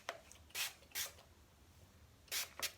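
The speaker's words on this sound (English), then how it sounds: "So I am spraying with the Manoy oil" Short quiet hisses of a spray bottle misting oil onto hair, five brief squirts in two groups with pauses between, close and soft against a faint background.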